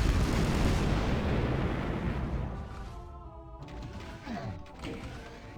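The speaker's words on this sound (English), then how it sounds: "a minigun that shoots rockets" A rocket-firing minigun and tank shell explosions in a video game produce a loud, dense roaring blast that slowly fades, then gives way to further rumbling booms and whooshes.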